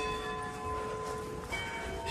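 Church bells ringing outdoors in winter in Stockholm, a steady sustained peal with lingering overtones over faint ambient street noise, heard at some distance with no talking.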